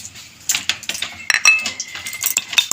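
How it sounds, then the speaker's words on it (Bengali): Whole black peppercorns, cardamom and cloves are pounded in a mortar and pestle, giving irregular metallic clinks and knocks, some sharp and ringing, in quick uneven bursts. "গোটা মশলাগুলোকে একটু থেতো করে নেব আমল দিস্তায়"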